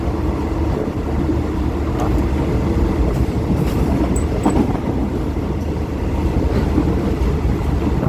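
Passenger train running along the railway toward Chiang Mai, a steady rolling rumble with faint clicks of wheels over rail joints, heard from inside the carriage at a moderate, even level throughout.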